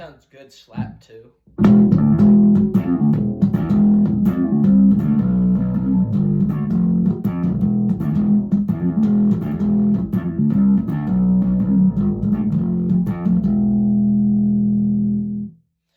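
A fretless bass guitar played slap style through a clean tone, with a steady run of loud, punchy low notes that ring on for a moment and fade out at the end.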